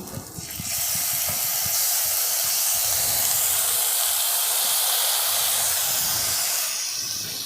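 Tomato paste hits a hot pan already holding ginger and garlic paste for an egg and pointed gourd curry, bursting into a loud, continuous sizzle that stays even and close throughout.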